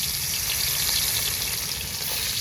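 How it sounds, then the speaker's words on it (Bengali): Hilsa fish pieces frying in hot oil, a steady broadband sizzle with bubbling crackle that holds loud and even throughout, with no voices. "তেল গরম হয়ে গেছে, এখন ইলিশ মাছ ভাজবো"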